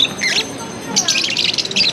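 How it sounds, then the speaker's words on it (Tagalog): Several birds, including sparrows, chirping and squawking nearby in repeated bursts, with faint voices murmuring underneath. "Mga ibon, oh."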